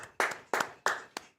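Four sharp hand claps in an even rhythm, close and clear, offered in thanks for a livestream super chat from a viewer named Leonard.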